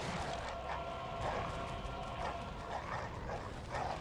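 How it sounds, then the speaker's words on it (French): Several dogs barking and yipping in the Bloodborne video game, scattered overlapping barks and whimpers under a dense, noisy in-game background, faint overall. "Il y a combien de chiens là?"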